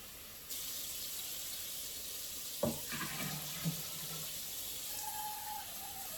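Tap water runs steadily into a plastic beer kit fermenter, topping it up toward the 23 litre mark for a Coopers sparkling ale; a continuous hiss with a few brief splashes and knocks partway through.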